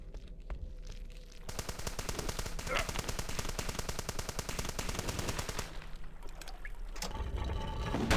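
A submachine gun in the retro shooter Hrot fires long rapid bursts, a dense mechanical rattle that runs for several seconds loud and close, then stops and briefly resumes.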